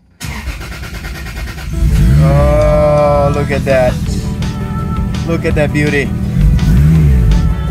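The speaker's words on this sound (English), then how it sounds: "now I'm gonna start the car" Toyota Supra engine cranking to life, then settling into a loud rumbling idle with revs rising and falling, close up, while someone speaks excitedly over it.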